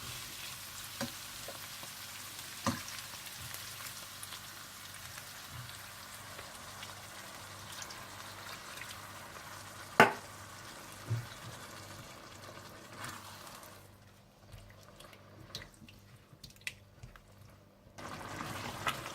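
Chicken gravy made with chicken stock and water simmers in a pan, giving a soft, steady bubbling and sizzling hiss with occasional louder pops and clinks, quieting briefly near the end.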